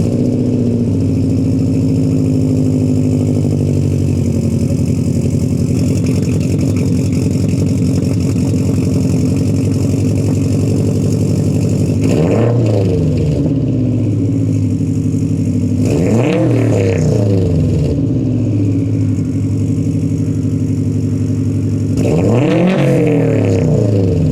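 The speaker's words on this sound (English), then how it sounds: "today I figured I'd get you guys one last cold start on the catless setup." A Subaru WRX STI with a catless downpipe exhaust cold-starts and settles into a loud, rumbling high idle, then gets three sharp revs that climb and fall near the end, close to the exhaust with no talk.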